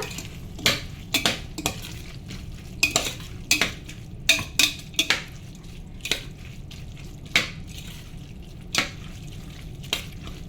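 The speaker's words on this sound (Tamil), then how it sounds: "இப்போ இதை எல்லாத்தையும் நல்லா மிக்ஸ் பண்ணிக்கோங்க" A spatula stirs mushroom fried rice with sauces and ketchup in a pan, giving repeated irregular metallic scrapes and clinks over a low frying sizzle. Close and fairly loud, with no voices.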